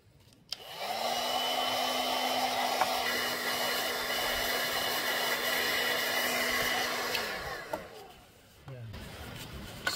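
A heat gun blows steadily for about eight seconds while heating a part of a Honda GCV160 lawn mower engine, a loud, even rushing hiss with a faint whine that cuts off near the end.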